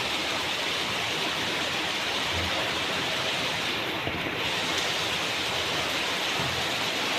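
Heavy typhoon rain pours steadily in Mariveles, Bataan, beside a swollen river, a dense, continuous wash of rain and rushing water with no voices.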